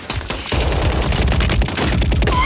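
Rapid gunfire crackles in a shooter video game, a dense, loud volley of overlapping shots that starts abruptly and keeps going without pause.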